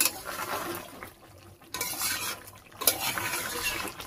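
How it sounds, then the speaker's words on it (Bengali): Chicken and fried jackfruit seeds are stirred and sautéed in a pan in a village kitchen, with metal spatula scrapes and clatter in two loud bursts separated by a quieter pause, over a soft sizzle. "ভেজে রাখা কাঁঠালের বিচিটা দিয়ে আরো কিন্তু আমি কিছুক্ষণ ভালো করে কষিয়ে নেব"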